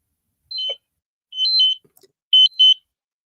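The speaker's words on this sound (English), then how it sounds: "Look, high glucose alarm. High glucose alarm." A high glucose alarm sounds in three separate bursts of shrill, chirping electronic beeps. Each burst is short and loud, with silent gaps between them and no voices.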